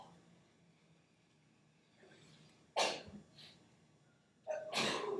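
Two sharp sneezes, a few seconds apart, burst out during a quiet restorative yoga class, each loud and abrupt against a hushed room.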